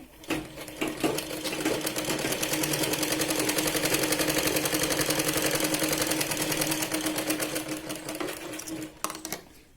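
A sewing machine runs steadily for most of the clip, stitching the sleeves onto a Punjabi dress. Its rapid needle clatter is close and loud, with a brief start and stop at either end.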